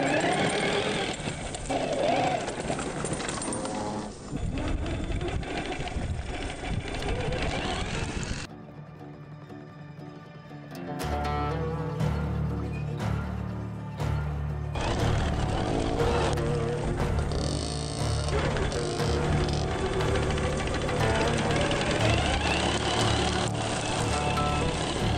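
HPI Baja 5B gas-powered RC cars running in sand: small two-stroke engines buzz and rev loudly and continuously, dipping briefly in the middle before surging again, with no talk.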